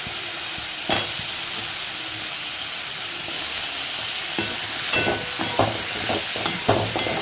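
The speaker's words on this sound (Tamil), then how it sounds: "இப்போ கட் பண்ணி வச்சுருக்க முருங்கைக்காய், உருளைக்கிழங்கு சேர்த்து நல்லா வதக்கிக்கலாம்." Sliced drumsticks and potatoes sauté with tomato and ginger-garlic paste, a continuous sizzle broken by sharp clinks and scrapes of a spoon stirring the pan.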